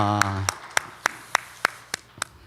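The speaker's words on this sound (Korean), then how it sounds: "박수로 하나님 앞에 영광을 돌립니다." A Korean Methodist church congregation claps in unison during Sunday worship, eight evenly spaced, crisp claps about a third of a second apart, beginning as a sung tone fades out.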